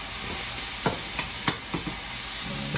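Jerk chickpeas with sauce are stirred in a hot pan, a soft continuous sizzle broken by several distinct scraping strokes of the spoon against the pan, close and moderately loud, with no talking.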